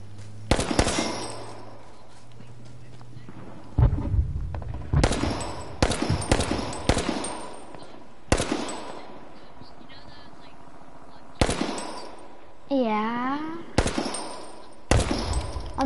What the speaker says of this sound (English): Do you hear a pistol shooting like crazy?